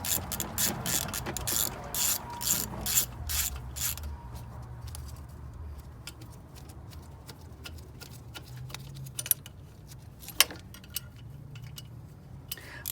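A ratchet wrench removing bolts from an abandoned Honda Civic clicks in a rapid, steady run of close ratcheting ticks, then gives way to a few sparse, faint clicks and metal taps.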